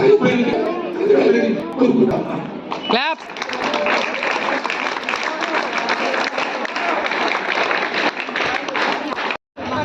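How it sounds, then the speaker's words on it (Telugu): A crowd at a large peace rally in Ongole breaks into sustained applause, steady broadband clapping that follows a brief stretch of a voice and continues loudly for several seconds. "క్లాప్"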